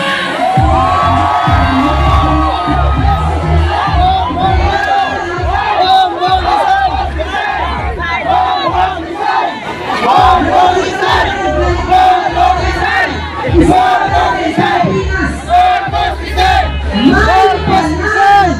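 A large rally crowd at the EDSA Shrine in the Philippines roars and shouts loudly and continuously, a dense, sustained mass of voices with surging cheers that never drops away.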